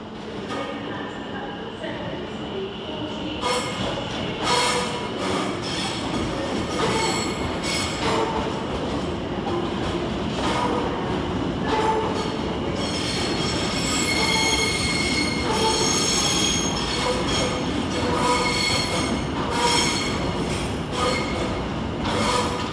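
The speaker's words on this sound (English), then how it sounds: "you join me halfway through a session as a train's coming in." A Stadler FLIRT train pulls into London Liverpool Street station, its wheels squealing loudly over a continuous rumbling roll, with sustained high screeches near the platform.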